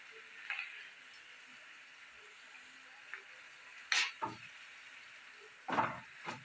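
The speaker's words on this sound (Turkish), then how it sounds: "Azıcık kızarsın soğanla." Onion fries in a pan for soup with a faint, steady sizzle, broken by a few louder scraping stirs and clatters of a utensil against the pan.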